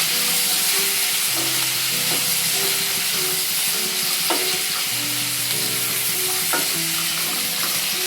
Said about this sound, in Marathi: कांदा गोल्डन ब्राऊन करून घ्यायचे आपल्याला